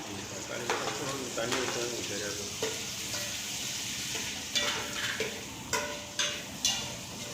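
Tomatoes sizzling in a pan while cooking a mutton curry, a soft steady frying hiss broken by repeated scraping stir strokes and light clinks of a spoon against the pan, fairly quiet and close.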